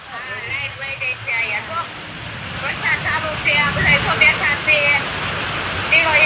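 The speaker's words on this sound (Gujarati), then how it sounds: "વરસાદ શરૂ છે" Heavy rain pours down during the Navratri season as a steady, rushing wash of water, while people talk over it nearby.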